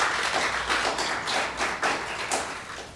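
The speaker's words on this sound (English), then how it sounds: "So I would like all of us to give him also a round of applause." A fairly quiet audience at a family-business conversation event claps, scattered and uneven, with individual claps standing out rather than merging into a roar.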